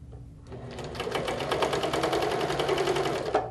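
A sewing machine runs a continuous quarter-inch seam, with a steady, rapid needle rattle and motor whir close up that lasts about three seconds before tapering off.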